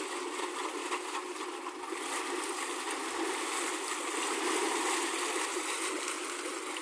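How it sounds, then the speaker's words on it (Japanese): A Volvo AQAD31 marine diesel engine on a Yamaha PC26 boat runs steadily with a broad, even mechanical roar, its level rising a little after the first couple of seconds. "今から片側ずつエンジンかけます。"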